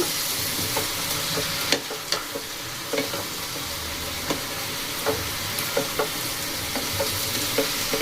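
A badam bori curry mixture with turmeric and batasa sizzles in a hot pan while it is stirred, the steady frying hiss broken by irregular scraping clacks of the spoon against the pan.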